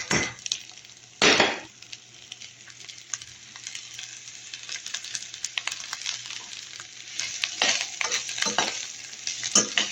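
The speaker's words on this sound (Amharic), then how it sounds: "አሁን እዚህ ጋር ሽንኩርት ላቁላላ ነው ማለት ነው" Onions sautéing in a little oil in a pot while making a dish with kuddar, a steady close sizzle broken by occasional scraping stirs and one louder clatter near the start.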